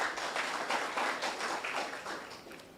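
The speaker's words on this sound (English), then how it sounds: "Give yourselves a round of applause." Audience at a student internship programme closing ceremony gives a steady round of clapping, fairly faint and distant, fading slightly toward the end with no talk over it.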